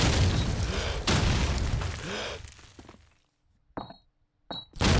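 Grenade blasts in Call of Duty 2 during a competitive online match: a loud booming burst with rumbling tail, then a quieter stretch broken by two short sharp pops near the end.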